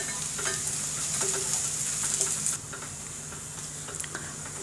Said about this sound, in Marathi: आलं आणि लसूण ह्याच्यामध्ये घालणार आहोत आणि ह्या कांद्यासोबत ते सुद्धा परतून घ्यायचं आहे आपल्याला भाजून घ्यायचं आहे